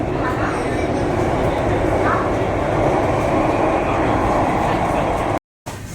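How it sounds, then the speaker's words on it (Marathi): Loud, steady roar of a Mumbai underground metro train moving at speed toward Dharavi station, dense rumbling and rushing noise throughout, heard from inside the carriage, with a brief dropout near the end. "ट्रेनला पिकअप हा किती भारी आहे सुसाट ट्रेन आहे"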